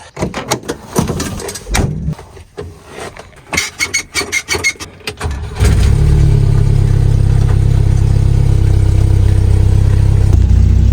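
A Volvo 240 wagon with a troubled engine: doors and movement clatter at first, then a steady, loud engine drone takes over as the car drives, continuous and close with no talking.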